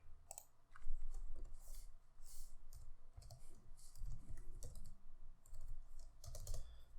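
Quiet, uneven clicking of fingers typing on a computer keyboard, keystrokes arriving in short irregular runs with brief pauses, close and alone.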